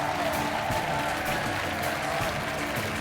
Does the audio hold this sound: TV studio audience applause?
yes